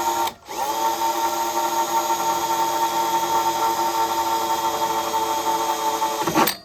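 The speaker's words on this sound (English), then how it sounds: "Just let the drill bit do the work" A power drill runs steadily while boring through a Panasonic Quasar 8,000 BTU split-style window air conditioner, a continuous close whine lasting several seconds that starts and stops abruptly.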